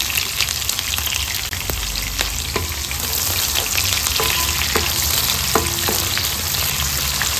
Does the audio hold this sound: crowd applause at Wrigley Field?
no